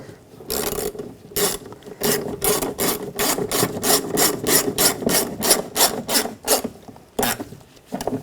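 A ratchet snugs down screws on a 2009-2017 Volkswagen Tiguan door trim panel. Rapid, rhythmic clicking comes in quick strokes, close up and fairly loud, with short pauses between runs.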